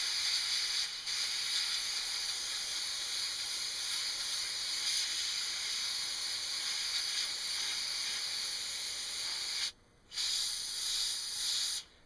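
An airbrush sprays transparent paint over red on a screen-printed shirt: a steady, fairly close hiss that runs almost continuously, broken by a brief stop near the end.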